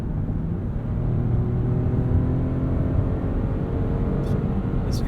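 A 2021 Lexus RX 350L AWD with its V6 engine pulling in sport mode gives a steady, full engine drone with a smooth, continuous tone from inside the cabin, with a couple of faint high ticks near the end.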